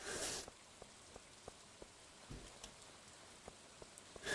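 Light rain falling in Stardew Valley, a soft steady patter with scattered distinct raindrop ticks at irregular intervals, fairly quiet, with no voices.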